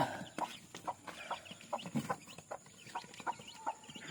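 A hen clucks repeatedly in short, soft bursts at a steady pace, close by, with faint farmyard background noise.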